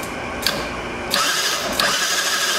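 A Yamaha Badger YFM80 ATV engine, with a suspected broken cam chain and a valve that may not move, is spun over by its starter, making a steady close whirring crank with a few sharp clicks and surges, no talk.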